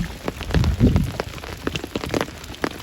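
Heavy rain falls steadily in a rural setting, a dense patter of drops with some louder splashes close by and no talk.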